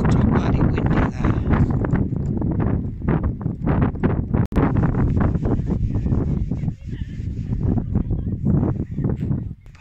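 Gusty wind buffets the microphone at Dead Horse state park above a pond and the Colorado River, rough low rumbling bursts coming and going throughout, with a sharp click partway through.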